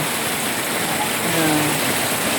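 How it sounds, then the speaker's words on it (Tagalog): Heavy rain pours in a steady, loud, broadband wash that continues without a break for the whole span, with a faint low tone briefly rising beneath it. "Kusog kayong ulan."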